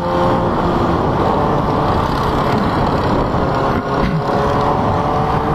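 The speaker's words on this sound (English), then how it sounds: "I don't mind the quietness of the exhaust." A steady, muffled motorcycle exhaust fitted with a Two Brothers sound suppressor drones continuously at close range, a low even rumble with no talking.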